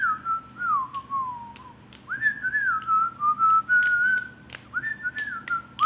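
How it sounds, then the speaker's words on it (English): A person whistles a wavering, sliding melody in several phrases with short pauses between them, clear and close against a quiet background. "I am a good whistler."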